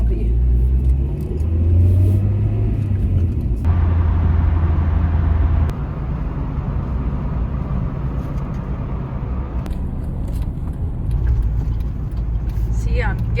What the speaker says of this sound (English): I'm giving it gas and it's like hesitating, and then it picks up.